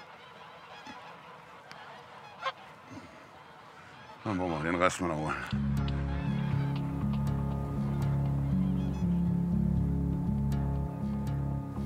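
Geese honking on a farm, a brief loud burst of calls partway through, after someone speaks, then a steady busy bed of noise continues to the end.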